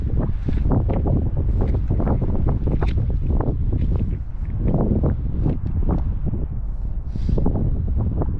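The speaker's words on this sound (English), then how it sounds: "It's a little bit windy," Strong gusty wind buffets the microphone on a cold hilltop overlooking Albuquerque, New Mexico, a loud, rumbling roar that rises and falls in continuous waves with no talking.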